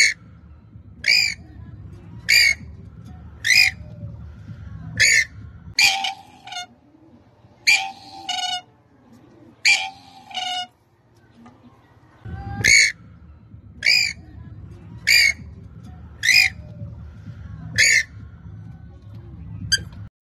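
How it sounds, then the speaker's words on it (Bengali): A female purple swamphen gives a series of sharp, loud squawking calls in a regular rhythm, about one every second or so, with quiet gaps between and a low background hum. "এতক্ষণ আপনারা যে ডাকটি শুনলেন সেটি ফিমেল পাখির ডাক।"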